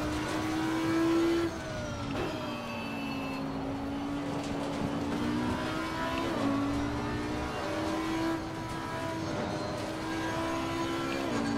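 Race car engine in the Assetto Corsa Competizione sim, a steady high whine rising and dropping through gear changes and cornering, loud and continuous throughout with no talk.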